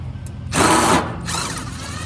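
Power drill backing screws out of a gas grill, a close half-second whirr followed by a softer, shorter second burst, with no talk.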